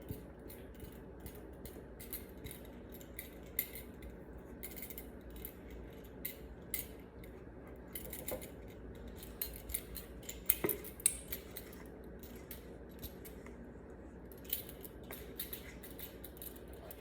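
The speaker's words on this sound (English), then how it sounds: "So you're just gonna scrape out everything out of the bowl," A utensil scrapes brownie batter from a bowl into a pan, with quiet intermittent scratches and light clinks against the dish, close but faint in a quiet room.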